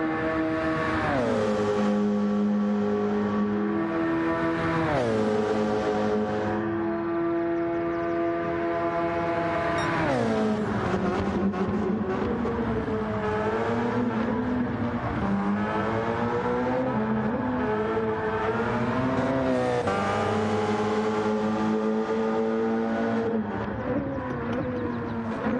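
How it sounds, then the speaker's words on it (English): A Gran Turismo race car engine, a Gr2 car at Suzuka, roars loud and sustained, its pitch climbing and dropping through gear changes as it revs hard around the circuit, with no speech. "This car, I love this car. Absolutely gorgeous, and it sounds amazing."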